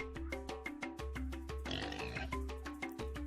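Pig oinks and grunts in the autobattler game Warboss, repeated rhythmic snorts over a game soundtrack of tones and a low drone, fairly faint.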